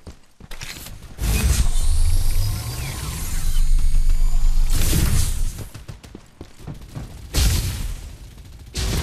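In the shooter game Farlight 84, gunfire bursts and mechanical weapon-reloading clicks and clacks come in loud clustered waves separated by brief lulls, with whooshing effects layered between.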